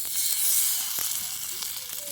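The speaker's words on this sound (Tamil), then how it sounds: "தோசை சட்டியில் நாம் வறுத்து எடுத்துக்க போகிறோம். வாங்க மக்கள்ஸ் மீனை போட்டுக்கலாம்." Masala-coated fish fries on a hot dosa pan, giving a steady close sizzling hiss with faint clicks and small squeaks, no talking.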